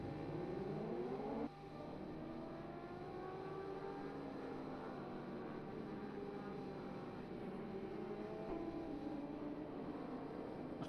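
A Ducati superbike engine in the RiMS Racing motorcycle game replay drones continuously at moderate volume, its pitch sweeping up and down through gear changes as it passes through corners.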